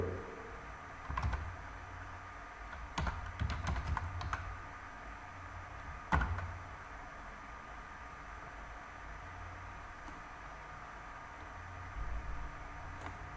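Python code typed on a computer keyboard, brief clusters of clicking keystrokes separated by quiet stretches over a steady low hum.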